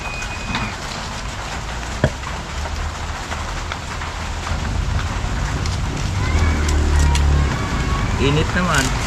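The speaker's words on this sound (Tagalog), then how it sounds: "Umulan na ng umulan." Rain falls steadily and grows heavier across the clip, a broad close hiss with a sharp knock early on and voices talking over it.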